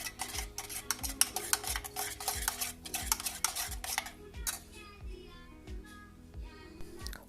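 A spoon stirs a tablespoon of Turkish coffee with water in a small coffee cup, clinking against the rim in a quick regular rhythm of about a dozen taps, then fading to soft swirling and faint background sounds.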